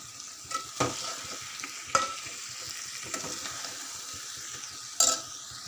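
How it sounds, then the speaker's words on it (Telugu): Ivy gourd curry stirred with salt in a hot pan, a constant sizzle and frying hiss broken by a few sharper scrapes and clinks of the spoon against the pan, close with no speech. "అంతా మంచిగా కలుపుకోవాలి రుచికి సరిపడా సాల్ట్ వేసుకోవాలి"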